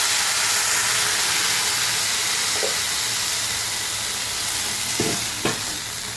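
A loud, steady steaming hiss fills a hot pan as a little water is poured over frying cluster beans, with a couple of brief clinks of utensils near the end.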